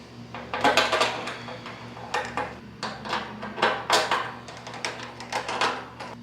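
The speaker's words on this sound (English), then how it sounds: "next we're going to go ahead and add the bottle opener to the front" A metal bottle opener gets fitted to the front of an Amazon Basics griddle, giving a busy run of clinking metal knocks and scrapes, close and moderately loud, with no one talking.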